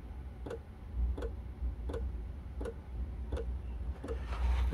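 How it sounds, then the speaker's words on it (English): A small 12-volt diesel heater fuel pump clicks in a steady, even rhythm, about once every 0.7 seconds, over a low mechanical hum. "Now the pump has started clicking,"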